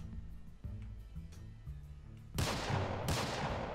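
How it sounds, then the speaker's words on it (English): Gunfire in a Minecraft shooting match: a run of thumping shots at an irregular rhythm, then louder, sharper cracking bursts near the end, with no talk. "Well, you're shooting me."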